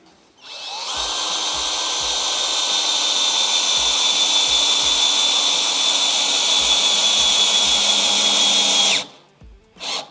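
A cordless drill from a four-piece battery tool set drives a long screw, giving a loud, close, steady whine that runs about eight seconds before cutting off, with no talk over it.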